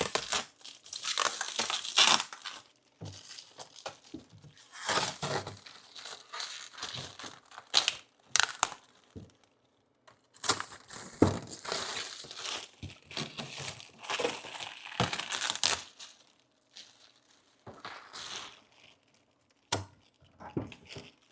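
Silicone packaging strips being pulled off a Creality Falcon A1C laser engraver: close, intermittent bursts of crinkling, rustling and tearing separated by short quiet gaps.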